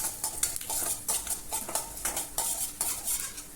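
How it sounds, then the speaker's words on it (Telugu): Coriander seeds and cumin frying in a little hot oil in a pan, with a spoon scraping and stirring in quick repeated strokes over a soft crackling sizzle. "ఆయిల్ వేడైన తర్వాత ధనియాలు 1 స్పూను, జీలకర్ర 1/2 టీ స్పూను వేసిన తర్వాత కొంచెం వేగనివ్వండి"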